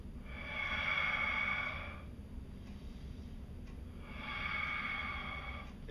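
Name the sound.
deliberate breathing during a 90/90 hip stretch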